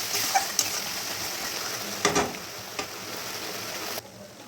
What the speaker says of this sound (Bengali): আর দেবো হলুদ গুঁড়ো, আর দেবো জিরে গুঁড়ো দিয়ে মশলাটাকে ভালো মতো কষে নিতে হবে